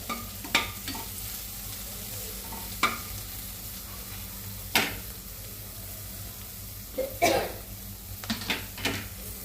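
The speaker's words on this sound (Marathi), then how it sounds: "लिंबू आणि मिरची चांगली तळून घेऊ एकत्र." Lemon pieces and green chillies frying together in a pan make a soft, steady sizzle, punctuated every few seconds by sharp spoon clinks against the pan.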